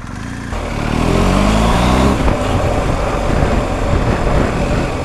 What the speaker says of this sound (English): Here's another bike.